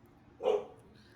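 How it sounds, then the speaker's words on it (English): A single short dog bark sounds from the background, moderately loud against an otherwise quiet room. "my dog is going ape"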